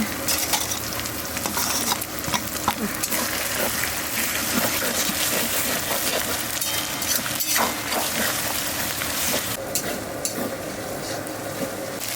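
Cumin paste and chili paste fry and sizzle in hot oil for a red country chicken curry, a steady loud crackle with stirring scrapes running throughout, no voices.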